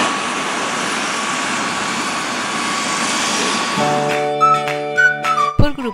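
A helicopter at a Manhattan heliport gives a loud, steady turbine whine and roar, then its engine tone shifts into strong rising harmonic hums as it spools up, close and dominant with no talk.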